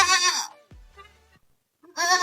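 Goats on a farm bleating, two loud close bleats at the start and end with a quiet gap between, alone without talking.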